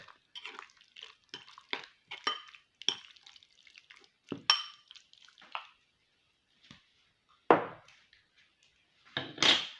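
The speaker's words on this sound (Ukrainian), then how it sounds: "Зараз я це все перемішаю і поставлю маринуватися на 15 хвилиночок." Shawarma marinade spices are stirred in a bowl, producing wet, squishy clicks and scrapes in short irregular bursts with quiet gaps between them, close and fairly soft.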